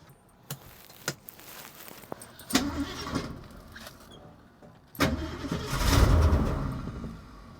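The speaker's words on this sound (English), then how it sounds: "I just connected the battery and I'm gonna try to start it now, turn the engine, try to prime the fuel pump and see what happens" A 1968 Mercury Cougar with a 302 V8, freshly reconnected to its battery, tries to start: clicks and key jingles, then a starter cranks in short bursts before a louder rumbling surge as the engine nearly catches.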